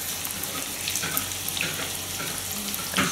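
Chopped onion frying in a pan for kurutob: a steady, close, hissing sizzle with faint crackles throughout and no voices.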